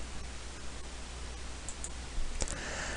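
A computer mouse double-clicks to open a spreadsheet, giving a few short, faint clicks against a quiet hiss.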